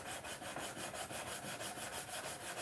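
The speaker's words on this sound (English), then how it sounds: "It's hand sanding time." Hand sanding a knife blade's bevel from a 120 grit belt finish toward 180 grit: a quick, even back-and-forth rasping stroke repeating steadily at close range, alone and fairly soft.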